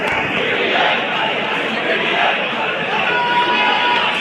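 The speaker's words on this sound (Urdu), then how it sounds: "عمران خان کے حق میں نعرے بازی ہوتی رہی ہے" A large crowd shouts slogans in support of Imran Khan during an election, a dense continuous roar of many voices with no clear gaps.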